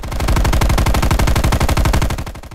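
Stone light machine gun from Call of Duty firing a sustained, very fast automatic burst, loud and close, each round crisp and evenly spaced over a dense low-end rumble, with no talk over it.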